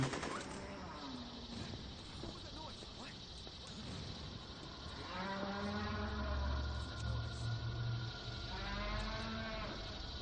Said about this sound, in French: y a une vache quelque part coincée sous un truc